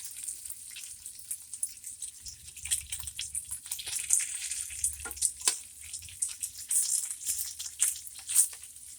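Bacon searing in a pan under a bacon press, a bright crackling sizzle with irregular pops and spits, steady and close with faint low rumbles underneath.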